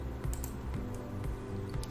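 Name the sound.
typing and pressing Enter on a computer keyboard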